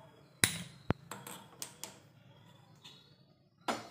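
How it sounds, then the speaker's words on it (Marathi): A gas stove being lit for cooking a wheat-flour and jaggery sweet, with a sharp click near the start, another brief snap, then a few softer clicks and a final burst as the burner catches, close and fairly quiet. "प्रथम गॅस पेटवून घेऊया"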